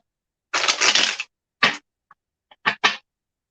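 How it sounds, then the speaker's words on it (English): A tarot card deck is shuffled in short bursts: one longer riffling rustle, then a brief snap, a few faint ticks and two quick final riffles, close and with no talking. "Hold on, I gotta shuffle one more time."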